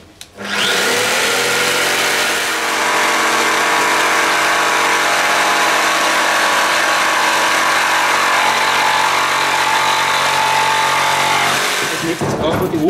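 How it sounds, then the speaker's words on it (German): Electric jigsaw cutting the edges of a board while building formwork for a quarter-turn staircase, a loud steady whine running continuously for about twelve seconds, close and alone, then stopping abruptly. "Das heißt, die Kanten können wir jetzt mit der Stichsäge mal."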